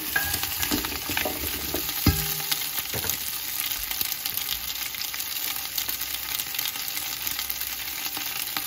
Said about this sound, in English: I'm adding in my extra virgin olive oil along with my onions, celery, and carrots. Just giving them a really quick stir.